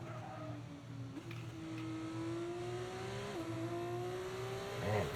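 An F2 race car's engine drones through the video game F1 25, a steady high whine that rises and dips with gear changes as the car laps the track, fairly faint, with no talking.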